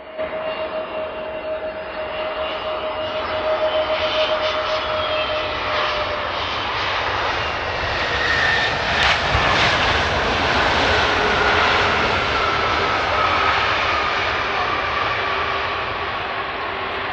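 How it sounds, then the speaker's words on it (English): Airbus A380 jet landing at Skiathos Airport in Greece, nearly veering off the runway, its engines giving a loud, steady, continuous roar for the whole stretch with no voices. "This Airbus A380's landing didn't go as planned, as the massive jet nearly veered off the runway."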